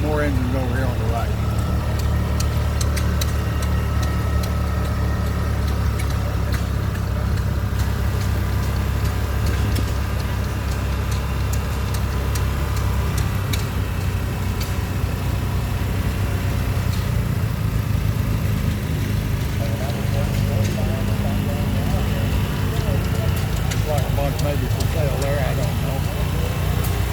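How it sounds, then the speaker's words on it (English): Vintage engines idle and thump together at an outdoor tractor and engine show, a steady low mechanical rumble running throughout with people talking nearby. "we got some more engines over here on the right"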